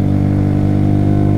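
A motorcycle engine runs after its chain was tightened and lubricated, a loud, close, steady idle with an even throbbing beat and no voices.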